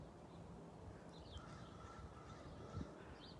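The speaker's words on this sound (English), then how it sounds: "Birds." Faint bird calls chirp intermittently outdoors over a low, steady background hum, quiet and distant.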